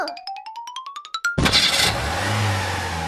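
A car engine cranking with rapid repeated starter pulses that rise in pitch, then catching into a loud roar and settling into a steady running drone as it pulls away, with no talking.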